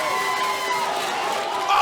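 A roaring arena crowd cheers and whoops after a heavy blow at a slap fighting championship. It is loud, sustained and swelling at the end, and an announcer talks over it.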